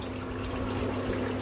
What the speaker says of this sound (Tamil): இந்த தண்ணி எல்லாமே ஒவ்வொன்றா வடிச்சிக்கலாம்.